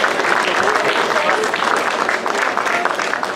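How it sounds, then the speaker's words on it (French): Loud, dense applause from an audience at a food fair in Le Mée-sur-Seine, many hands clapping steadily and close for the whole stretch, with some crowd voices mixed into it. "Merci, on peut les applaudir très très fort."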